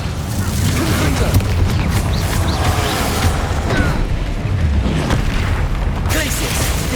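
Confringo fire spell explosions booming against a troll in the Hogwarts Legacy video game, dense layered blasts and rumbling game effects continuing throughout, with a voice calling out over the action.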